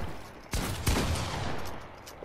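Gunfire in a one-on-one shooting video game: two sharp shots ring out about a third of a second apart, then the sound trails off into a fading rumble, moderately loud with no talking.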